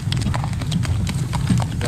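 Horse hooves clip-clop in a steady, close rhythm on a farm as foals are moved to pasture, with people talking over the hoofbeats.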